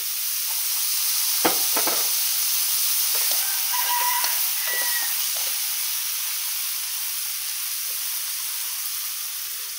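Lotus root and fried tofu stir-fry in a hot pan, giving a constant bright sizzle with a few sharp clacks of the utensil against the pan early on and a faint rooster crowing somewhere in the background.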